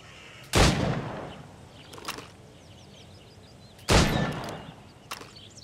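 Two loud, sharp gunshots fired at stationary targets in Assassin's Creed Rogue, several seconds apart, each with a reverberant tail, over faint outdoor ambience with distant birds.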